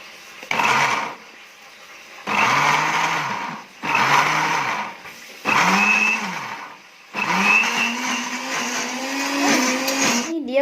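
A kitchen blender purees shallots, garlic and chili with a little oil, running in five loud bursts that rise in pitch as the blades spin up, with short quiet pauses between, close and without talk.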